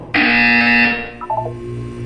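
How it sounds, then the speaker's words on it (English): Loud electronic buzzer from the Portal 2 video game, a single harsh sustained tone lasting about a second, followed by a few softer electronic blips over a low background hum. "When you hear the buzzer, look down at the floor."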